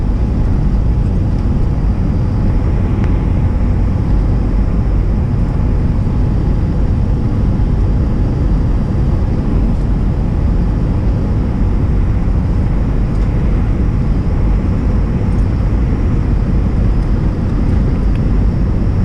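Loud, steady roar of engine and rushing air inside a small airplane cabin descending toward Hayden airport near Steamboat Springs, continuous and unbroken with no talk.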